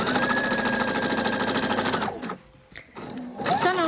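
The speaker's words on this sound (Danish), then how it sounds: "Og jeg syr de her små sekvenser, tager fat på ny, vipper rundt foran maskinen, foran trykfoden og bag ved trykfoden." Sewing machine stitching elastic onto small children's trousers, a steady loud motor hum with rapid needle clatter for two seconds, a brief pause, then the stitching resumes.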